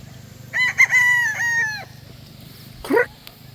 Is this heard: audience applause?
no